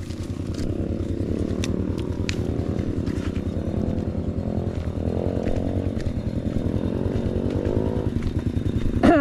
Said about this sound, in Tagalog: Hindi kaya ng ating motor.